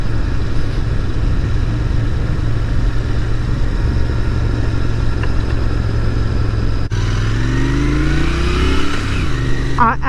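A 2022 Royal Enfield Interceptor 650 twin-cylinder engine runs steadily at a low, even thrum, then pulls away and accelerates with a rising note after a brief break, heard close and loud.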